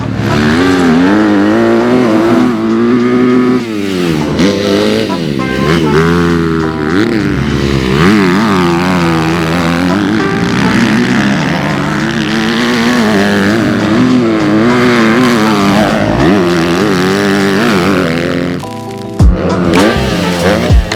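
A 2026 Kawasaki KX250 dirt bike engine revs hard and continuously, loud and close, with rising and falling pitch through gear changes and a brief drop near the end.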